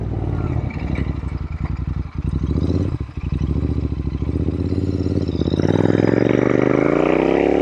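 Royal Enfield INT/GT hybrid custom motorcycle ridden nearby, its engine note rumbling and clattering at low revs, then rising steadily as the rider accelerates toward the end.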